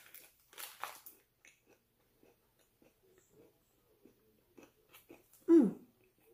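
A Japanese chocolate-coated puffed rice snack crunches in a few sharp, close bites amid quiet chewing, with one louder crunch near the end.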